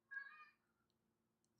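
A domestic cat gives a single clear meow of about half a second, fairly close and moderately loud, followed by quiet room background and a brief sharp knock at the end.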